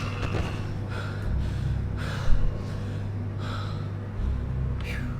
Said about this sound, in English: Believable breathing noises.